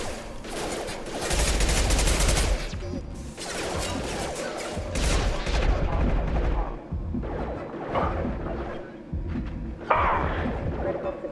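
Heavy gunfire in Mass Effect Legendary Edition combat: repeated bursts of automatic fire and crashing impacts over eleven seconds, loud and close, with voices talking in between.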